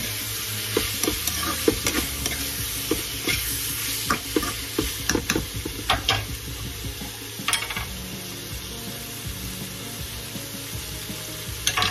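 Broccoli and shrimps are stirred in a hot pan, with a steady sizzle of frying and repeated scraping, clinking strokes of a utensil against the metal, close and fairly loud, with no talking.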